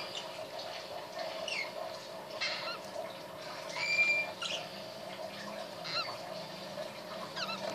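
Baby Indian ringneck parakeet chicks give thin, high squeaky calls, several short bursts scattered across a steady background hum, fairly close and faint.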